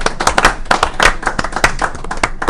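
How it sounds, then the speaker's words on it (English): Crowd in a lounge claps for those who protect and serve, a lively burst of close, sharp hand claps with some whoops, sustained and fairly loud without speech over it. "So I want to give a big round of applause to all those who protect and serve for us."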